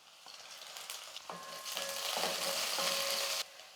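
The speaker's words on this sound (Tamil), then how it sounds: "பாருங்கள் வெங்காயம் நல்லா வதங்கிடுச்சு" Onions sauté in a pan, producing a soft, continuous frying hiss that grows slightly louder before cutting off abruptly near the end.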